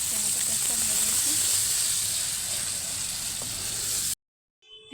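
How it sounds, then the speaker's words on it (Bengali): Fresh tomato and tomato paste sizzling in a hot pan while pizza sauce cooks, a steady close hiss that runs for about four seconds and then cuts off abruptly. "আর টমেটোটা ছেড়ে দিচ্ছি। টমেটো পেস্টটা দিয়ে দিয়েছি।"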